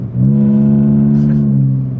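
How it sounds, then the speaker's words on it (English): A BMW E46 328 exhaust revving close by, a strong steady low drone held for about two seconds before easing off slightly, with no talk over it. "To be honest, I really like the exhaust."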